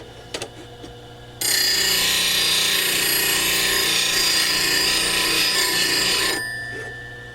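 Steady, loud grinding hiss as a skew chisel is sharpened freehand to a 30 degree bevel on a grinder, holding evenly for about five seconds before tapering off, with a few light knocks before it starts.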